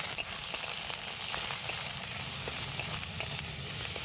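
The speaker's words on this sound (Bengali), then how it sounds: "মশলাটাকে আমি শুকনো শুকনো করে কিছুক্ষণ কষিয়ে নেব।" Masala paste of cumin and turmeric dry-frying in a pan with a steady, dense sizzle and crackle, close and continuous throughout with no voices.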